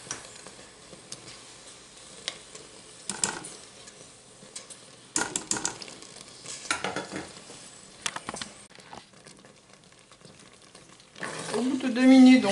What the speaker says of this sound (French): Et on va laisser cuire pendant 2 minutes tout en remuant.